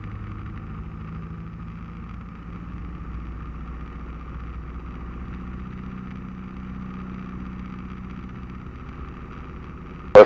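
Small airplane piston engine held at 1800 RPM during a magneto run-up, a steady, even droning hum heard from inside the cabin, with a sharp click at the very end.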